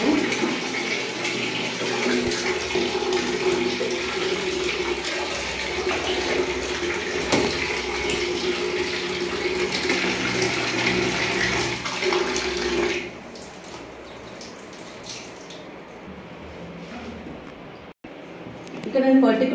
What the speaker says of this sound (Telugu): ఇక్కడ బేబీకి డైలీ హెడ్ బాత్ చేపిస్తున్నామండి.